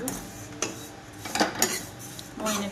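A spoon clinks and scrapes around a pan as vermicelli fries in ghee toward golden, a handful of separate metallic knocks over a quiet background with no talking.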